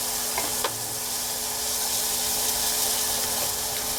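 Onion frying in olive oil in a sauté pan, a steady loud sizzle that fills the whole stretch, with a few faint clinks of a utensil near the start.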